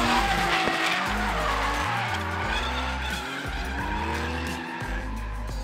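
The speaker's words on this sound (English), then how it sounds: "Those guys have been tandeming all day and they are getting in sync." Two drift cars tandem drifting, tires skidding and squealing over droning engine revs that rise and fall, heard from a distance with no talk.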